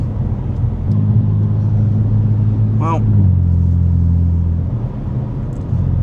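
A car's engine rumbles steadily from inside the cabin while driving in damp, humid weather, a low constant drone with a brief rise partway through and a voice speaking over it.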